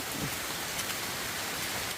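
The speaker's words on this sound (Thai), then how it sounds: "ฝนตกแป๊บเดียวนะคะ ประมาณ 10 นาทีนะคะเนี่ย" Steady rain pours down in a mountain forest, a dense even hiss of drops with no pauses and no voices, heard close and moderately loud throughout.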